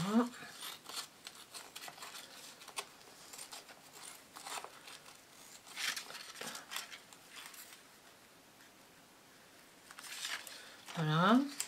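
Scissors cut a piece of paper for a handmade Harry Potter spell book, giving a quiet run of snips and rustles, with speech around them.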